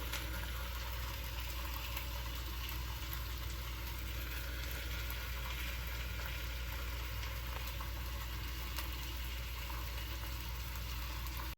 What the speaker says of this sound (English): I'm going to use butter, flour, and the diced onions and garlic, and I'm going to cook all that until golden